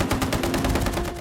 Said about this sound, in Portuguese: o barulho das máquinas de costura se assemelha a tiros de metranca